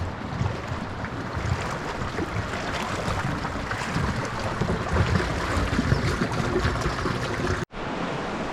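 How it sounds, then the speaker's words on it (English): Continuous rushing water running off a hillside in Zion, a broad steady wash like runoff tumbling downhill, with a brief sharp dropout near the end. "it's got this water coming off the hill and makes these fun little sounds"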